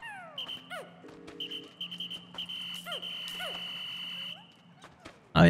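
Whistle blown to call Pikmin in the Pikmin 4 video game, a long steady tone held for several seconds amid chirpy little creature calls and game effects, ending in a brief burst of noise.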